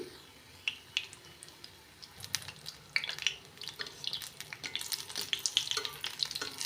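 Eggplant bajji fritters frying in hot oil, a crackling sizzle with sharp pops that grows busier and louder toward the end, close by and with no talk.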